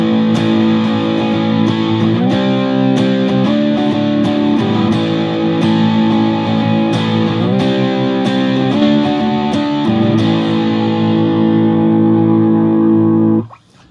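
Electric guitar played through a Pro Co Rat distortion pedal in its OG mode, thick sustained distorted chords ringing steadily and loud with no talk, cutting off abruptly at the end.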